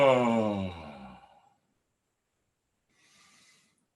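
A person gives a long, voiced, relaxed yawn that slides down in pitch and fades out, followed by a quiet breath.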